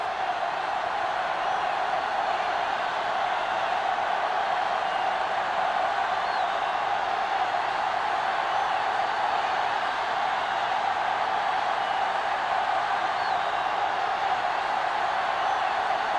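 Steady broadband roar of a large stadium crowd before an NFL kickoff, Patriots at Bills under the lights, sustained and even throughout with no distinct peaks.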